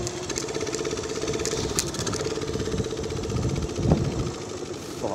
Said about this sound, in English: I've just the engine's just calmed down